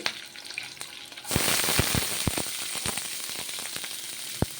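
Oil sizzles loudly as onions hit the pan, settling into a steady frying hiss with occasional pops and clinks from stirring.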